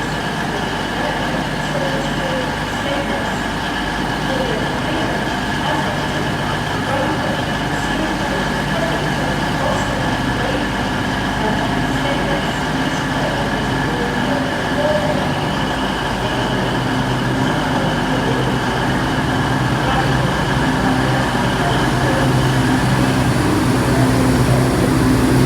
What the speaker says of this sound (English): B1341 cross-country service to Birmingham New Street.